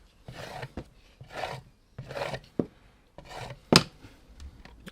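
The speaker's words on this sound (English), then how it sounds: "scrape some of this off here" A tool scrapes excess acrylic paint off a poured surface in short repeated strokes, five or so rasping passes with brief gaps, close and fairly quiet, ending in a sharper click.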